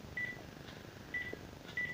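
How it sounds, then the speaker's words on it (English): A phone calling a DZ09 smartwatch gives three short, faint, evenly spaced electronic beeps over a low background hiss. "we try to make a call from this phone to that watch"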